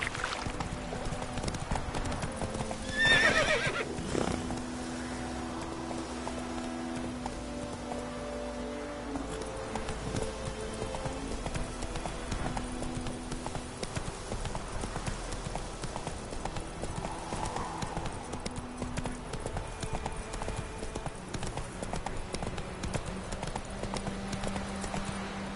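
Roach, a horse in the video game Witcher 3, gallops with a steady, continuous clip-clop of hooves for the whole stretch, with one brief louder burst near the start.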